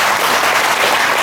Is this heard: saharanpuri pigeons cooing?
no